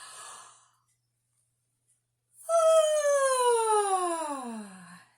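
A big vocal yawn from children during a KS2 singing warm-up follows a brief breathy sound and a pause, then swells into a loud tone that glides steadily lower before trailing off.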